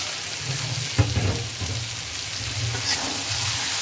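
Food being stir-fried and sautéed in a pan during home cooking, a continuous close sizzle with spoon scrapes and stirring clatter, no talking.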